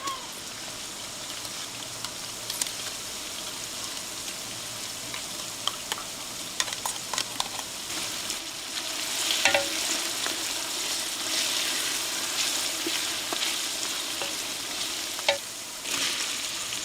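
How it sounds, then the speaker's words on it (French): Crabs cook in a pot for fish soup, giving a steady hiss of sizzling and bubbling broken by occasional clinks and scrapes of stirring, close and continuous. "Là, les crabes ils commencent à prendre de la couleur, ils commencent à cuire"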